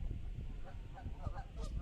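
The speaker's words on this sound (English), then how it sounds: "Goddamn geese" Several geese honk outdoors in a quick run of short calls, moderately close over a steady low outdoor rumble.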